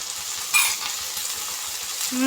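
Potatoes, carrots, peas, green chillies and tomatoes sizzle and fry in a pan for veg pulao, a steady close hiss with a brief louder burst as the vegetables are stirred.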